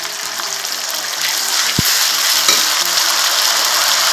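Chopped onions with bay leaf, whole cumin and ground spice paste frying in a pan for chicken kosha, a steady loud sizzle with stirring scrapes and one sharp knock of a utensil partway through.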